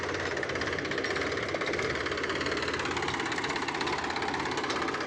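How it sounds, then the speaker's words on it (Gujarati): A tractor engine chugs and knocks with a steady, rough pulse in an outdoor farm setting. It stays fairly loud and constant throughout, with no talking. "અને દેવન સાવન જો ટ્રેક્ટર લેતો આવે છે।"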